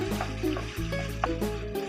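Meat frying in a pan for stuffed bell peppers, a steady close sizzle with faint stirring clicks and no talk.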